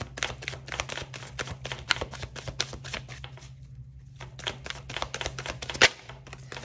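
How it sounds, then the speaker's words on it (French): Tarot cards are shuffled and drawn by hand, a quick series of close crisp flicks and taps with a short pause near the end and no voices. "Allez, je prends 3 cartes."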